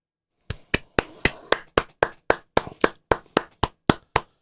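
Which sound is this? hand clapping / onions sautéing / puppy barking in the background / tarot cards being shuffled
hand clapping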